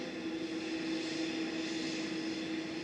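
A Boeing 787-9 Dreamliner departs Manchester Airport for Melbourne, Florida, heard as a faint, distant, steady jet drone with a sustained tonal whine running through the short stretch.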